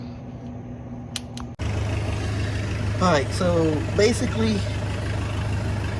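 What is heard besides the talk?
tractor engine running in background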